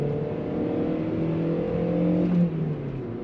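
A 1.4-litre 75-horsepower petrol engine in an Audi A2 revs hard toward the limiter, a steady rising drone that peaks briefly then drops away, heard from inside the car without talk.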